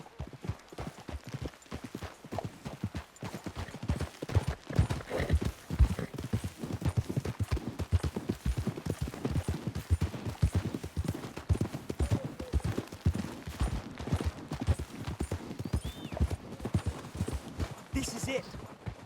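Horses' hooves clip-clop at a fast, steady gallop through most of the stretch in Red Dead Redemption 2, loud and close, with a voice talking over the pounding rhythm.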